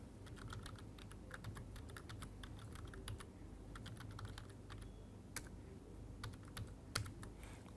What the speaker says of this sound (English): just typing it as it is